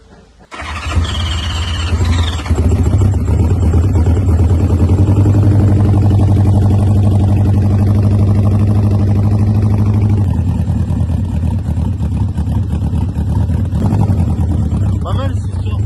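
A car engine, just back from a head gasket repair, turns over and settles into a loud, steady idle, running continuously close by with a low rumble and slight squeal.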